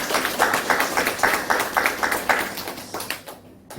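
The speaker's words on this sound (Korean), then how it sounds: "박수합니다." A church congregation at a Sunday service claps in unison, about a dozen fairly even beats at a steady, brisk rhythm, filling the room before tapering off near the end.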